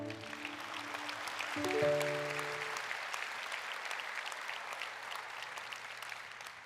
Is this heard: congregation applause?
yes